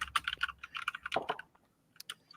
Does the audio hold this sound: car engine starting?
no